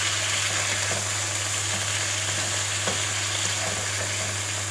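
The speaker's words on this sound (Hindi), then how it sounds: "सारे चिकन को हम पैन में हमने ऑयल शामिल किया। चिकन को हम हल्का सा फ्राई करेंगे।" Small chicken cubes fry in oil in a pan, producing a dense, steady sizzle close up with a faint low hum beneath and occasional light stirring clicks, with no talk.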